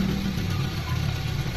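A Suzuki SX4 engine idles smoothly and evenly, a steady low rumble held close and fairly loud with no voices over it.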